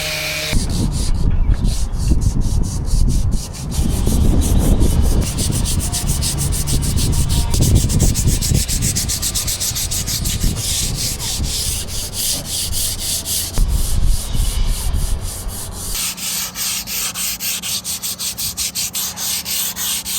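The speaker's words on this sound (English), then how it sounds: "The Easy Fair fairing compound sands very easily, which makes a quick job of hiding any defects or dings that are in the wood." Wood coated with Easy Fair fairing compound is sanded by hand in steady, close, continuous rubbing strokes with a gritty scraping texture. The sound holds fairly even for about twenty seconds, with no voices.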